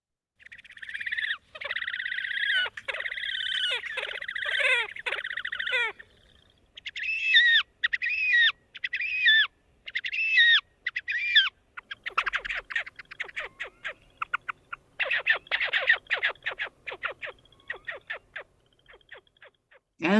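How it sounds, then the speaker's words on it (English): Raspy, whinnying brays of a horned grebe come in repeated stuttering runs, fairly close and clear, with quick rattling notes and short pauses between phrases, no voices. "we got some raspy, whinny braying of the horned grebe"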